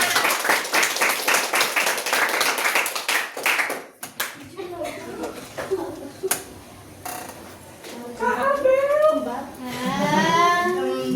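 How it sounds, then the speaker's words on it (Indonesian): Children at a vocational agricultural high school event clap together for the helpers, a dense burst of applause that fades after a few seconds into scattered voices and chatter. "Tepuk tangan dulu semuanya"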